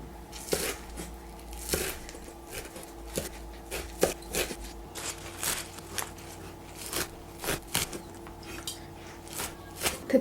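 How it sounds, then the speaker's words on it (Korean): Green onions chopped finely with a knife on a board, a run of sharp, close knife taps in an uneven rhythm, about two or three per second, with no talking. "쪽파를 조금 썰어 놓으려고 합니다."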